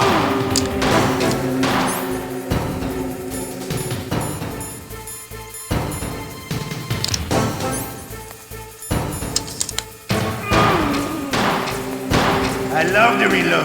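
Gunfight in the Metal Gear Solid video game, with dense repeated gunshots, thuds and reloading clicks layered over game music and voices.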